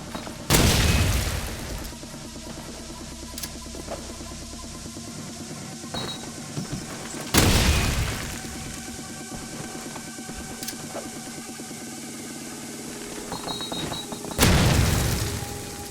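Three heavy grenade blasts in Call of Duty 4 Promod boom out several seconds apart, each a loud sharp burst decaying into a rumbling tail over faint background game noise.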